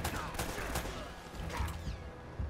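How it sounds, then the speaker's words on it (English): Distant enemy gunfire from the video game Uncharted: Drake's Fortune rattles in quick faint bursts, low and muffled under game background noise. "They're all shooting."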